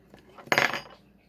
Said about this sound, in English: There goes my spoon.